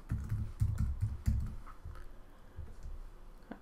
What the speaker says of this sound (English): Type in that URL.